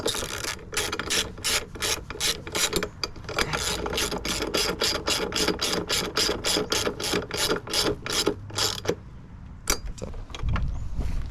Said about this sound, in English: And then I'll grab my socket. So wind them all the way in.